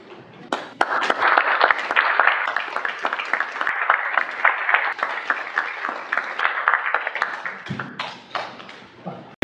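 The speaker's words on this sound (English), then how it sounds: "How about another big round of applause to our 34 students, See Dai Doo Army, and the service to our country" A ceremony audience gives sustained applause for 34 Chinese American WWII veterans receiving the Congressional Gold Medal, a dense crackling wash of many hands clapping, steady and fairly loud, tapering near the end.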